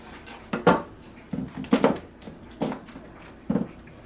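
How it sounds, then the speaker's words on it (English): An onion being chopped on a board with a knife, a handful of separate sharp knocks spaced irregularly, close and fairly quiet, with no talking. "chop this onion"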